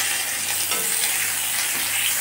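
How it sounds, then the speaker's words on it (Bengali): Nigella seeds sizzle in hot oil in a pan just used for frying pabda fish, a loud, steady, dense crackle that holds evenly throughout with no pauses. "এখন আমি তেল দিয়ে দিয়েছি, এখন দেব কালো জিরে"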